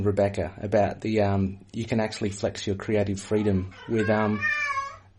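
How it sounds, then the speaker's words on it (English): A pet cat named Flippy gives a drawn-out meow near the end, overlapping steady conversation between people talking close by. "We should point out that's a cat."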